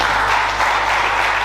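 A church congregation in Coventry applauds, a dense, steady wash of clapping that holds evenly throughout without a break.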